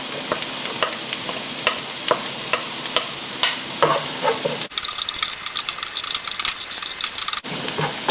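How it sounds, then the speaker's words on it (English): Onions and garlic sauté in a pan with a close, steady sizzle and repeated utensil taps and scrapes. Partway through, the sound cuts to a brighter, hissier stretch before the frying returns. No one speaks. "first step is to saute your onions. Then add in your garlic."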